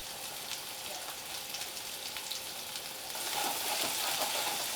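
Garlic and oyster mushrooms fry in a pan with a steady, close sizzle that grows a little louder and busier partway through, with no talk over it.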